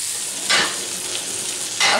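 Chicken pieces for chicken marsala fry and sizzle steadily in a pan, a constant close hiss with two brief louder flares as they are moved, and no talking.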